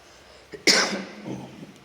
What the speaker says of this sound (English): do excuse me for coughing